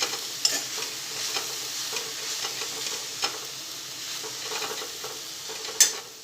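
Chopped fresh green fenugreek is stirred into the filling for a Kathiyawadi stuffed rotlo, producing a steady, close rustling and scraping with a few sharp clicks of a utensil against the bowl, and no voices.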